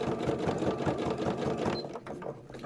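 Sewing machine stitching Gelli print fabric, a fast rhythmic mechanical chatter of the needle running steadily, close and clear, then slowing near the end.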